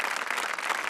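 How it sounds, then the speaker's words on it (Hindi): Studio audience of a reality TV show applauds a contestant, dense continuous clapping, loud and close, filling the whole short moment. "जोरदार तालियां एवरीबॉडी फॉर दर्शन"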